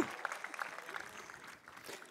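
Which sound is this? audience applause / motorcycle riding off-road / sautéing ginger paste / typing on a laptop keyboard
audience applause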